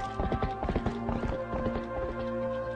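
Horse hooves clip-clop in Zelda: Twilight Princess, a quick run of close, crisp hoofbeats over a steady musical background, then fading into softer scattered steps.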